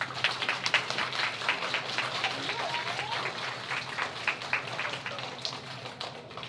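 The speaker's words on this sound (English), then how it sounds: "Let's give them a round of applause." Applause for first and second grade students receiving trimester awards, a steady moderate patter of many hands clapping in a room, fairly even throughout with light murmuring underneath.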